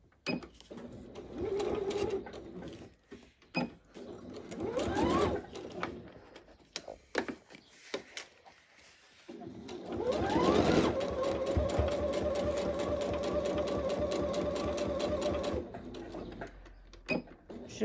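A sewing machine stitches a fabric tote bag, running in two steady mechanical bursts separated by pauses and quiet handling sounds, close and fairly loud with no talk.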